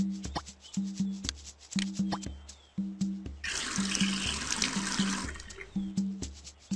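Magic water pours in a Dora online video game, a brief gushing splash rising over bouncy game music with clipped sound effects before and after it.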